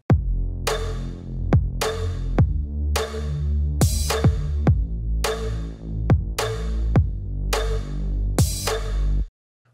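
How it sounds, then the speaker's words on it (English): Electronic breakdown drum pattern with a deep kick, sharp percussion claps and ticking hi-hats, looping in a steady rhythm for several bars before stopping abruptly. "So in the second breakdown, we have a kick, a percussion clap, and some hi-hats"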